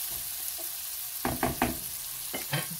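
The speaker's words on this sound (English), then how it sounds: "Just stirring and letting it." Omelette frittata mixture frying in a pan with a steady sizzle, broken by a few distinct scraping stirs of a utensil through it in quick succession, then two more later.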